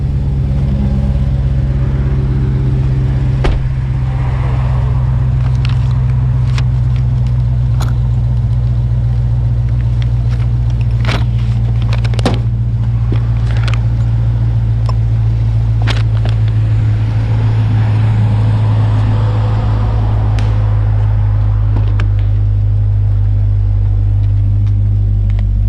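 A 2018 Dodge Challenger 392 with a modified PCM runs steadily on the road, its deep V8 rumble continuous and close throughout, with faint clicks and rattles from the cabin and no talking.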